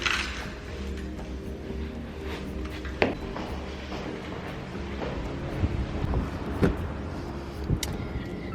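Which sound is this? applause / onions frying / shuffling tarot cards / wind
wind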